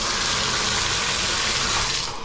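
Water pouring steadily from a hotel shower and jetted tub in an oceanfront resort room in Myrtle Beach, a loud, continuous dense rush with strong pressure and no talking.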